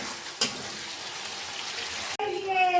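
Paneer frying in butter with a little white oil in a home kitchen pan: a steady, moderate sizzle and crackle with a sharp clink near the start and a brief break, with someone speaking over the cooking.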